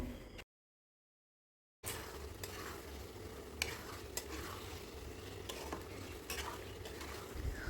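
Boiled besan pieces stir-fry in a spice masala with a steady sizzle and repeated scraping stirs of a utensil against the pan. A short stretch of silence interrupts the sound near the start.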